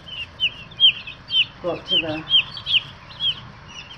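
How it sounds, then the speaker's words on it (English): Meat chickens in a brooder cluck in short, regular bursts roughly twice a second, fairly close, while people talk briefly. "So these are the meat birds that'll stay around for how long do they stay in the brooder?"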